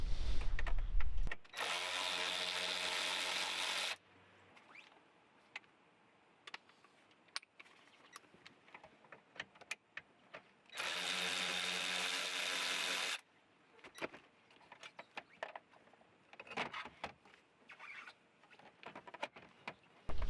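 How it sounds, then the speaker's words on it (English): A ratchet works loose the 7mm bolts holding the CD player in a Ford F150 dash, in two sustained bursts of buzzing clicks, close and fairly loud, between quieter scattered taps and handling noises. "our last 4 7mm bolts are holding in the CD player. Go ahead and remove those"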